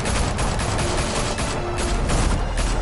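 A squad opens fire in the Batman: The Telltale Series game, sending a loud, dense fusillade of overlapping gunshots that keeps going without a break.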